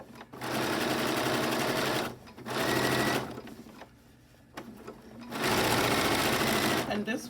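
A sewing machine runs in long bursts, stitching big stitches along a 1/4 inch fabric binding, with brief pauses between runs and a soft voice talking in the gaps.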